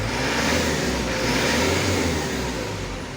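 A Mitsubishi Canter Euro 4 truck with a 150 PS engine revs loudly and steadily close by, a full rumbling roar that holds for several seconds before easing slightly at the end, with no talking.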